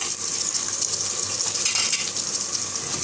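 Tomatoes tipped into a pan of frying onion, ginger and garlic masala for aloo palak, giving a steady, close sizzle and crackle of oil that runs evenly throughout with no talking.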